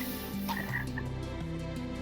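A frog in Minecraft, taken into the Nether, croaks in low repeated pulses over a droning ambient game backdrop, the calls coming close and clear without any speech.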